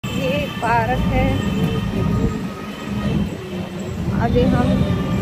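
A Delhi Metro train at Mayur Vihar Phase 1 rumbles past with faint wheel squeals, a continuous rolling din, while a voice talks over it.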